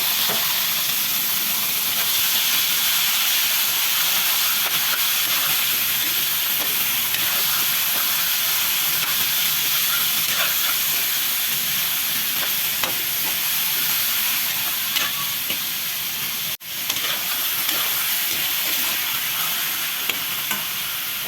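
Chicken browns in a hot pan with lemongrass for curry, giving a loud, steady frying hiss and sizzle throughout. There is one brief dip near the end and no talking.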